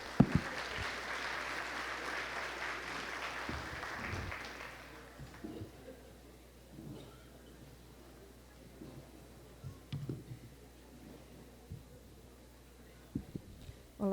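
Brief applause from an audience at a university rector candidates' debate, a moderate burst of clapping that fades after a few seconds into a quiet room with scattered small noises.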